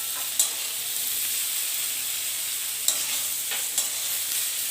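Ginger paste goes into a frying pan and gets stirred, giving a steady soft sizzle with a few sharp clicks of the utensil against the pan. No one speaks.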